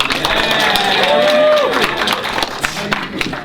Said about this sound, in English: Oh, give a big round of applause.